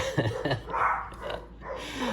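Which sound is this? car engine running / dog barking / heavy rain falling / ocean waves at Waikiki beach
dog barking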